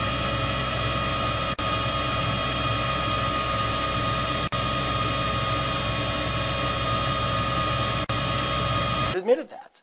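A news helicopter flies overhead with a constant loud rotor and turbine drone, steady and close for several seconds before cutting off abruptly.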